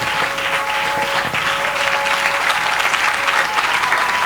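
Sustained, vigorous clapping from a church congregation at a Sunday service fills the space, loud and continuous with a crowd-like roar that barely wavers.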